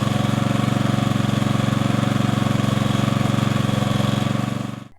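Agricultural power tiller engine running at a steady, loud, close idle with a rapid even chugging beat, cutting off at the very end.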